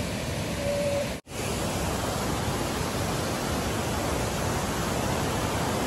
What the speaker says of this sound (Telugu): చూడండి ఇదే వాటర్ ఫ్లో.